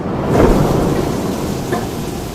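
Heavy rain pours down in a steady, dense hiss, and a low rumble swells near the start and then fades back under the downpour.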